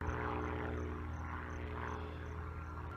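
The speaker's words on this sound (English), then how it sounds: "There's like airplanes flying all around me right now" Propeller airplanes drone overhead, a steady, continuous engine hum that stays fairly faint and even throughout, with no voices.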